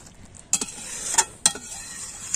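A utensil stirs egg tadka of scrambled egg and chopped coriander in a pan, giving a few sharp metallic clinks and scrapes close by over a faint, steady sizzle.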